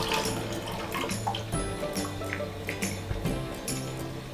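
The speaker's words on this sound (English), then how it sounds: "Now I'm gonna drain that water." Water drains from a sink after a wig has been washed, a steady close gurgle and trickle with scattered small clinks and drips throughout, no talking.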